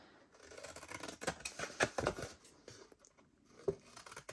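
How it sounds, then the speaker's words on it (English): Scissors snip through stiff paper in a quick series of crisp, crunchy cuts, close up, with a final cut after a short pause. "take your scissors and cut up on the score lines"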